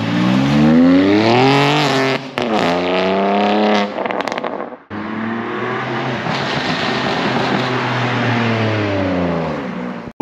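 A BMW M2 G87 fitted with an Eisenmann twin-flow exhaust revs loud and close, its engine rising in pitch through one sustained rev, dropping away briefly with a pop, then climbing into another long, harsh rev.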